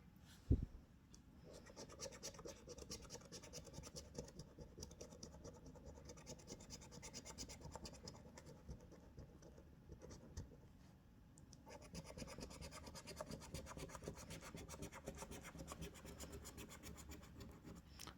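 An FDJ lottery scratch card being scratched, a quiet continuous rasping scrape that runs on steadily with a short pause partway through and one sharp tap at the start.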